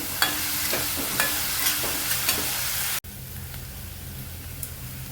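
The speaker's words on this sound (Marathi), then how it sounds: "कांदा चांगला लालसर होईपर्यंत परतून घ्यायचे." Onion frying in oil in a pan for paneer chingari, a bright hiss punctuated by a handful of rhythmic spatula scrapes, then a softer steady sizzle after a brief break.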